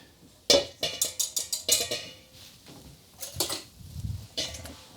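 Spatula scraping a gluten-free chocolate mousse mixture out of a container into a bowl, a quick series of about eight sharp scrapes and taps, then a few more scattered clinks and scrapes, close and fairly quiet.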